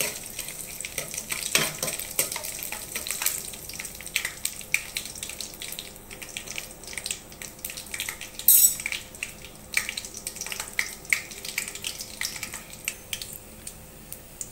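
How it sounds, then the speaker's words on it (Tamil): Whole spices such as cinnamon, cloves, fennel and star anise sautéing in oil in a pan for a mutton coconut milk curry, a soft continuous sizzle with occasional stirring scrapes, close and moderately quiet, with no voices. "இப்போ லைட்டாக அதை வதக்கிக்கலாம்."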